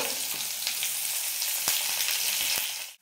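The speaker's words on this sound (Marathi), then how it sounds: "1 ते 2 मिनिटांसाठी छान परतून घ्यायचे" Onion, cabbage, capsicum, green beans and carrot sauté in hot oil with cumin for veg fried rice, a steady loud sizzle broken by a few sharp spatula clicks, with no voices.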